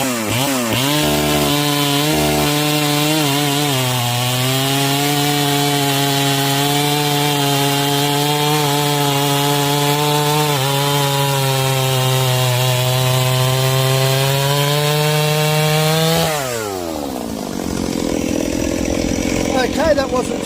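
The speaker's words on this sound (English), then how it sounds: "Chainsaw's all warmed up, done a bit of a test cut on another piece of wood, so we're going to cut this one" A chainsaw with a warmed-up semi-chisel chain bites into a piece of wood, a steady, loud, buzzing whine held for about fifteen seconds before the engine drops back to a rough idle.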